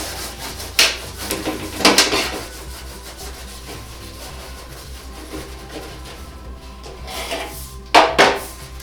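Softened butter is spread over a baking pan, giving soft scraping and rubbing strokes with a few louder scrapes against the metal, close up and with no talk.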